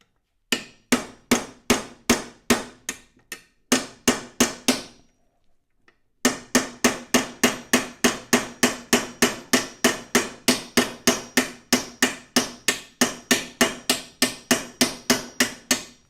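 Steady, evenly paced hammer blows strike the gear train of an Amberola V phonograph to knock its gears loose, sharp metallic raps repeating close up, with one brief pause partway through.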